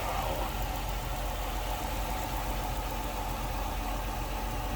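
A 2006 Chrysler 300 Limited AWD sedan's 3.5 liter V6 idles smoothly and steadily close by, a constant even engine rumble with no voices.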